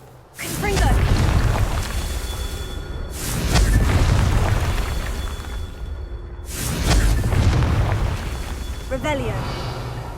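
Confringo blasting spell explosions in the Hogwarts Legacy video game: three loud, deep booms with whooshing bursts about three seconds apart, each rumbling and fading before the next.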